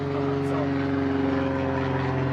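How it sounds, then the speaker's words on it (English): An airplane passes overhead in a Southern California bonsai garden, a steady loud propeller-like engine drone with a sustained hum that fills the whole stretch, while people talk underneath. "Airplane."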